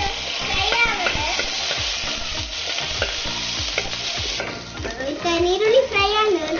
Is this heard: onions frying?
yes